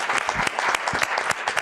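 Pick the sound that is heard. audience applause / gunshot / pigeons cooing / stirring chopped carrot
audience applause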